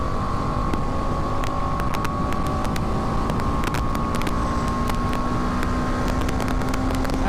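A 2020 BMW G310R BS6 single-cylinder motorcycle engine drones steadily at speed, its pitch creeping slowly upward as it pulls past 6000 rpm, heavily masked by constant loud wind rush and occasional clicks.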